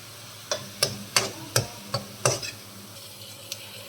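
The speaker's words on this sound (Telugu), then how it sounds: "తొందరగా ఫ్రై అవుతుంది ఆనియన్." Sliced onion with a little salt cooks over high heat in a pan, with a series of sharp spatula scrapes and taps about every half second over a low background sizzle, close and with no talk.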